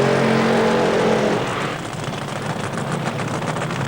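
Drag racing car engines at Santa Pod in 1993 roar in a loud, sustained blast that shifts from a low droning tone to a broad, harsh rumble as the cars launch and pull away.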